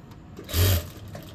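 A sewing machine stitches a tulip salwar in a short, steady mechanical burst lasting under a second, close and fairly loud, with a softer motor hum around it.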